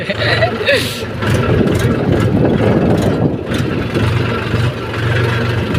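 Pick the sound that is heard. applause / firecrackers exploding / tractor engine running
tractor engine running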